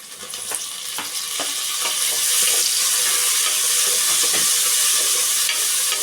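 Tomato fries with potato and brinjal in a pan, a loud, steady close-up sizzle with occasional scraping stirs of a spoon, without any speech.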